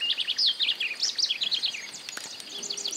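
Masked yellowthroat (black-faced arañero) singing in a Santa Fe, Argentina grassland, rapid high warbling phrases repeated in quick succession, clear and fairly close over a quiet background.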